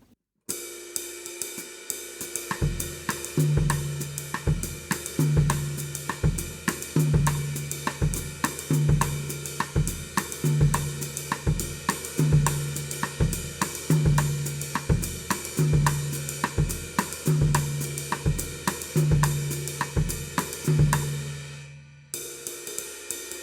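Drum kit playing a polyrhythm groove, with one left-hand part moved to the tom and an extra bass drum added. Evenly spaced cymbal and snare strokes run over repeating deep thumps for about twenty seconds, then stop abruptly.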